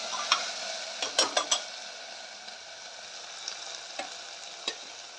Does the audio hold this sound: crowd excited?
no